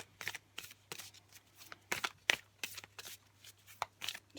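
Oracle cards shuffled and pulled for a tarot reading: a run of brisk, papery flicks and snaps, close and fairly quiet, repeating in short bursts with no talking.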